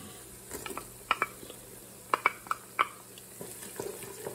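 Chopped garlic frying with onions in a pan on medium heat gives a faint, low sizzle, broken by a few light clicks and clatters of stirring.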